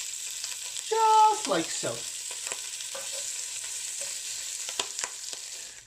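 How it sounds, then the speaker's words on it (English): Salmon skin crisps in a frying pan with a steady close sizzle, while a short spoken phrase and a brief voiced rise sound over it near the start. "We are first going to crisp the skin a little bit,"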